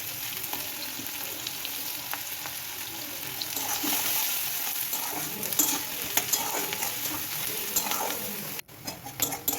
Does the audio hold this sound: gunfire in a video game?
no